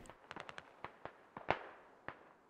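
Scattered gunshots in a SquadOps military game battle, sharp cracks going off at irregular intervals, some distant and one louder and closer, with no talking.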